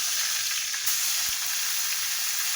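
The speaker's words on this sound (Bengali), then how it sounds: "এবারে আলুটাকে ভেজে নিচ্ছি" Potatoes fry in hot oil with spices, tomato and bay leaf for a Bengali jackfruit curry, a dense steady sizzle up close with one brief knock partway through.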